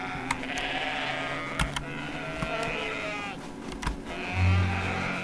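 A larger goat in a video game bleats loudly near the end, a short low bellow over steady game ambience and scattered clicks, with no speech.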